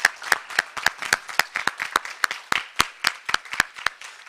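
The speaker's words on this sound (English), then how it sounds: "Give them one more round of applause, please." Applause for five panelists at a youth leadership symposium: a small group clapping in distinct, fairly regular claps that stand out loud and close over a quiet background.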